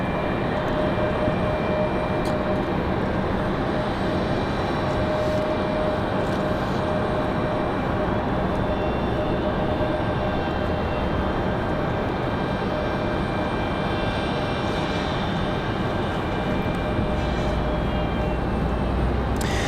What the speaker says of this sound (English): This A220 back to Boston